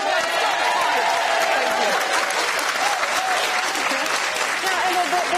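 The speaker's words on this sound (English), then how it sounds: "Don't stop clapping." Loud, sustained applause from a daytime talk-show studio audience greeting an actress, a dense continuous wash of clapping with a voice briefly speaking over it.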